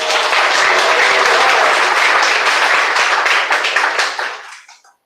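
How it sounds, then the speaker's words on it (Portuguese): A church congregation claps together during worship, a dense, loud burst of applause that fills the room steadily for several seconds before tapering off to silence. "Pode glorificar Ele com as palmas."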